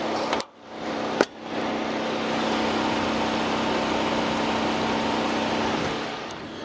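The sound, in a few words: Hyundai Grandeur HG 300 engine running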